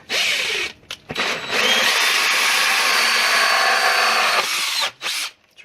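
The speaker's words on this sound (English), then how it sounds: "we're going to just use a hole saw" Power drill spins a hole saw while cutting through a 2014 Honda Civic panel for a speaker mount, a loud steady whine with brief starts and stops at the beginning and end.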